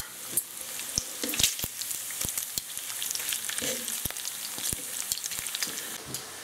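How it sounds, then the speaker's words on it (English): Bacon frying in a pan, a close, constant crackling sizzle dotted with frequent sharp pops and spits of fat at irregular intervals, no speech. "we're getting these nice bubbles, which means the bacon is starting to get done"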